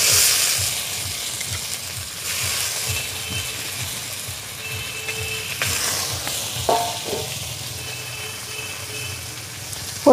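Water lily stems hitting a pan of frying onion and chilli bring a crackling sizzle with rhythmic stirring scrapes and a couple of utensil knocks, close and steady, with no talk.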